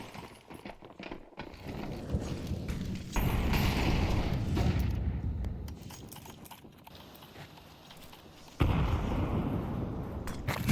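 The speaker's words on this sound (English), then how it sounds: "The artillery sails down on ZywOo." Artillery from a Counter-Strike 2 match between Falcons and MOUZ, with heavy booming blasts and rumbling impacts that come in waves, each loud burst fading to a low roar before a sharp new surge near the end, with no voices.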